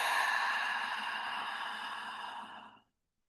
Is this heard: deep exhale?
yes